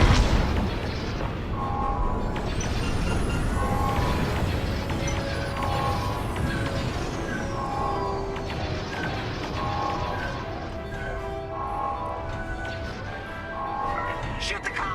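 Repeated heavy booms from bombs striking pillars in Star Wars Squadrons, spread steadily through the stretch beneath a continuous roar of starfighter engines, game music and radio chatter.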